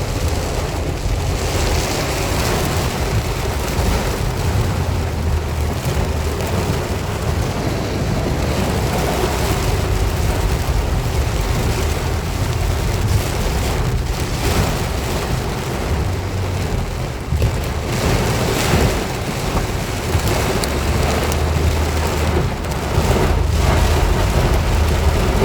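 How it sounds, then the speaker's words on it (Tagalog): Heavy rain pours down in a steady, dense roar during a sudden downpour in traffic, with low rumbles that may be thunder or passing vehicles; constant and loud throughout, with no talking. "Ayan po, lakas ng agupit ng ulan."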